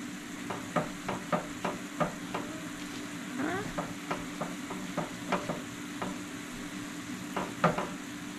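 Elk meat and eggs frying in a pan, a constant sizzle under repeated scraping and stirring taps of a utensil against the pan, close and steady, with no talk.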